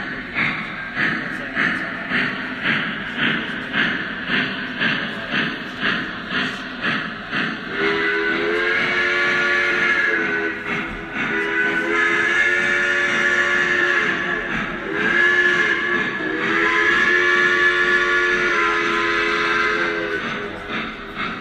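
A Lionel Pennsylvania K-4 model steam locomotive chuffs in a steady rhythm, then sounds a series of whistle blasts over continued chugging and hiss, close and loud.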